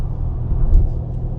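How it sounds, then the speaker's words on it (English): Porsche 992 GTS with a performance exhaust, valves open, cruising on the highway in 8th gear with the dual-clutch gearbox at about 75 mph: a steady low exhaust drone and road rumble that swells briefly midway, with no talk. "So this is like normal highway cruising, valves open, right?"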